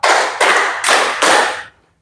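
Four crisp, loud rounds of hand clapping from a classroom group playing a clapping game, in a steady rhythm, the last clap fading into a quiet room.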